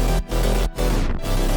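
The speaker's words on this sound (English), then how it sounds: "I added this tape stop effect" Dense, full-range progressive house chords and bass cut off abruptly twice, then a third time with a tape stop downward pitch slide as the sound slows and drops before resuming.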